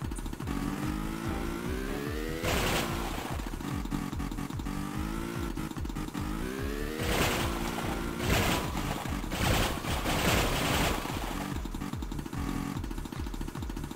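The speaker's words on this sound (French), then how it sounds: "Mais le moteur est plus fort que la musique." A skidoo engine in Tomb Raider II Remastered drones steadily with repeated revs, its pitch rising and falling, loud and continuous, with bursts of louder game effects mixed in.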